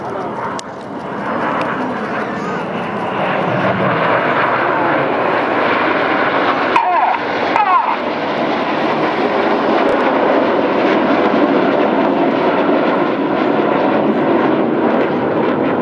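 Red Arrows jets flying formation rollbacks at the Sunderland Airshow 2014, a loud continuous jet roar that swells and sustains throughout, with crowd and commentary noise mixed underneath.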